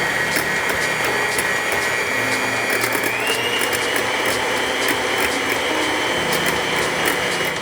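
Egg yolks and lemon juice mixed for avgolemono in a restaurant kitchen, heard as a steady, dense whirring with clicking and rattling from the whisking, continuous and fairly loud throughout with no talk.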